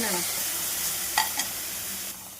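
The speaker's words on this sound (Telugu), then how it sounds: "కొంచెం టమాటా సాస్, బాగా మిక్స్ చేస్తాం. సోయా సాస్ ఇక్కడ" Tomato sauce and soy sauce are stirred into a hot pan with a steady sizzle, followed by a couple of quick scrapes of a spoon against the pan.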